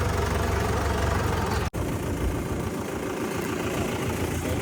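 A steady low tractor engine rumble idles continuously, loud and close, interrupted once by a brief click; a 575 tractor that fell off an embankment into a ditch.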